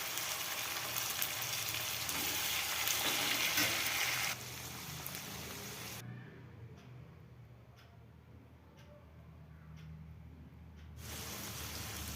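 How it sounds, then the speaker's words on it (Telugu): Boiled cluster beans, drained of water, sizzle in a kadai with turmeric and salt: a steady broadband frying hiss that drops in level partway through, with faint ticks, and no talking. "కొంచెం సాల్ట్ వేసుకొని బాగా ఫ్రై చేసుకోండి"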